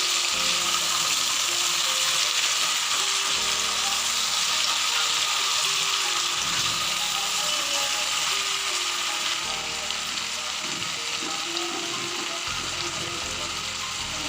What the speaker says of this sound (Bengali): তুলে রাখা সেদ্ধ করা শিম সব এভাবে দিয়ে দেবে দিয়ে ভালো করে নেড়ে চেড়ে